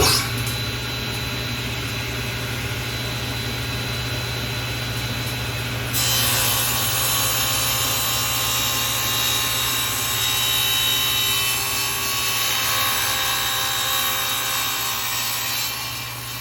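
Aluminum cut on a woodworking saw using a sled, with a steady whining motor hum and then a harsher, brighter rasp as the blade bites into the metal, continuous and close.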